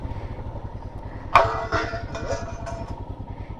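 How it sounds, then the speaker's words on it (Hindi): A motorcycle engine labours up a steep, rocky mountain road at high altitude, with a steady low, pulsing chug throughout and a few brief clanks and rattles over the rough ground. "बाइक भी थोड़ा दिक्कत कर रही है चढ़ने में, लेकिन यह है कि हाँ चढ़ रही हैं आराम से"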